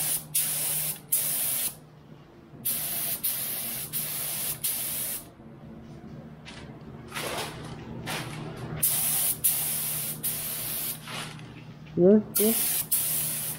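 Spray primer hissing onto a Subaru Impreza in short repeated bursts of a few seconds each, close and loud, with brief pauses between passes and people talking intermittently.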